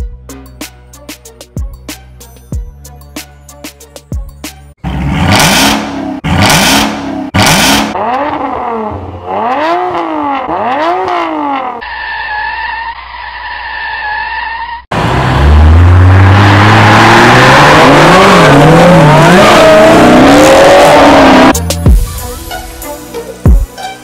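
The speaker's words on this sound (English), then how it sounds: "a series of drag races and races on these illegal dirt roads" Engines rev and accelerate in loud swooping waves during drag races on illegal dirt roads, with repeated rising and falling pitches and a long roaring run building to full throttle.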